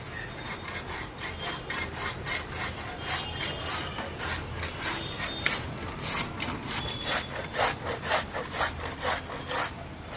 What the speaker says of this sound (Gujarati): તો આવી રીતે ખમણીની મદદથી બધું પપૈયું સાડા સાતસો ગ્રામ પપૈયું છીણી નાખ્યું છે